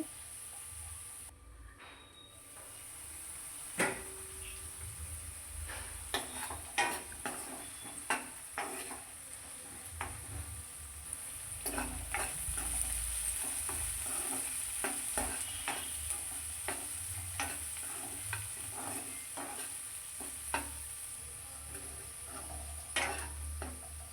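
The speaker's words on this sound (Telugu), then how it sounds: "పసుపు ఉప్పు ముక్కలకి పట్టేలా కలుపుకోవాలి" A spoon stirs ivy gourd pieces with turmeric and salt in a pan, giving repeated scraping clinks over a steady frying sizzle, close and moderately loud with no talking.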